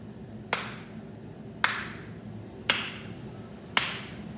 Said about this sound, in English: I played 4 quarter notes in a row.